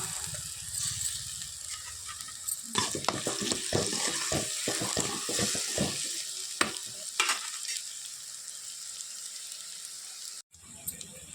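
Ginger garlic paste fries in hot oil with onion, green chilli, curry leaves, cinnamon and cloves for a country chicken curry. A steady close sizzle runs throughout, with a burst of rapid scraping stir strokes in the middle.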